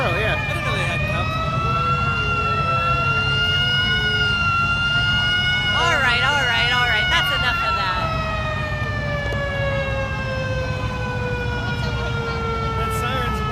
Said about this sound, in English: That siren's whinier than most of your posters.